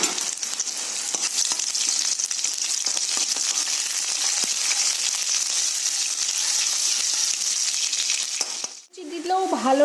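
Onion tempered in hot oil in a wok gives a loud, dense, close sizzle that holds steady for most of the stretch, then cuts off near the end as a voice begins.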